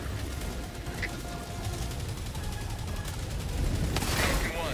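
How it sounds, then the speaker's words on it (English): Sustained rapid gunfire from Helldivers 2 is aimed at a rock, a dense, steady barrage of shots running the whole time and swelling louder toward the end. "That guy just shooting the rock."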